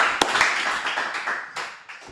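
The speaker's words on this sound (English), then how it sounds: "So at 3 we clap. 1, 2, 3." A group in a talk setting claps together once on a count of three, giving a single sharp, loud crack of many hands at nearly the same moment, followed by a few scattered fainter claps and room noise.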